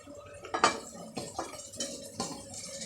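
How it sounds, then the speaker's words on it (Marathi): Green peas tipped into a pan of fried spice mix, a few sharp clattering scrapes and soft patters against the metal, with brief bursts of sizzle, close and fairly quiet. "पुन्हा त्याच्यामध्ये वाटाणा टाकून घेऊया."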